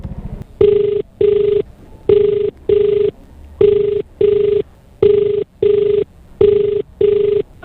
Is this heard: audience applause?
no